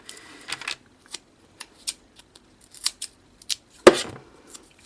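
Scissors snip through 3D foam pads for a handmade card, a series of short, crisp, close cuts spaced irregularly in a quiet room.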